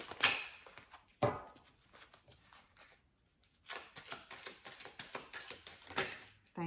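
A tarot deck is shuffled by hand in a few quick, crisp bursts of riffling and snapping cards, close and fairly quiet, with short pauses between them.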